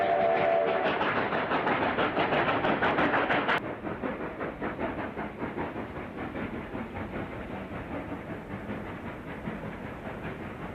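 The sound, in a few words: Rio Grande narrow gauge train running at Windy Point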